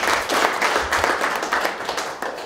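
An audience at the opening of a multifunctional playground in Ľubeľa, during a visit by the Slovak prime minister, claps steadily and fairly close in a dense, continuous round of applause.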